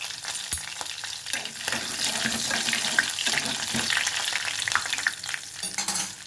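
Curry leaves hit hot tempering oil already holding mustard seeds, cumin and dry red chillies, producing a loud, dense sizzle with sharp spattering bursts, close up and continuous, no voices.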